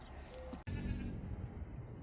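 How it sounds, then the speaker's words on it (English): A couple of goats bleat close by, a short call followed by a louder, sustained bleat over low rustling background noise. "These are a couple of relaxed goats."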